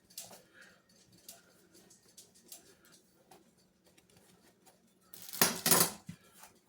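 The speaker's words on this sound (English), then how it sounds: "with these particular rolls here, we gotta slice them down the center" A knife slices white bakery sub rolls down the center for a Philly cheesesteak, heard as a short, loud, rasping cut late in a quiet kitchen after faint clinks and small handling sounds.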